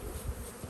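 A brief, steady buzz of bees flying around a nearly empty nuc beehive box, a soft continuous hum heard up close.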